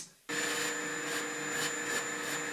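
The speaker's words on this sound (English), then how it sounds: "then hoover up the remaining hair" A household vacuum cleaner switches on and runs steadily, hoovering up loose hair after a home haircut, its motor whine loud and close with slight rises as the nozzle moves.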